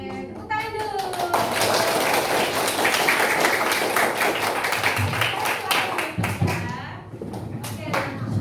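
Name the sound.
class clapping hands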